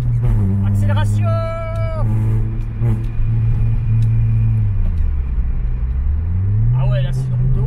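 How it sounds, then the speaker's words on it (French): A car accelerates along a winding mountain touge road near Osaka, its engine note rising and falling steadily up close over roughly eight seconds, with a brief tonal chirp and some muffled background talk mixed in. "Accélération."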